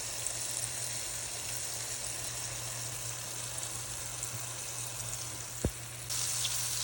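Pheasant frying in avocado oil in a pan gives a steady, even hiss and sizzle, close and unbroken, with one faint clink partway through.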